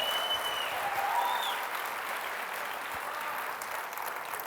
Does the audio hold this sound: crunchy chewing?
no